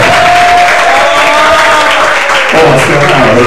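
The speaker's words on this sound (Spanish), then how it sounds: "a quien vamos a recibir con fuertes palmas, por favor." Loud audience applause in a Peruvian lecture hall welcoming a speaker on a generational youth talk, steady massed clapping throughout with a voice speaking over it near the end.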